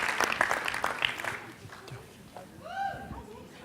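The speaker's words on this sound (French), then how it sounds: "Adrien, viens nous rejoindre sous un tonnerre d'applaudissements" A short burst of audience applause for a graduate at a workplace diploma celebration fades out within about a second and a half. A quieter stretch and a voice follow.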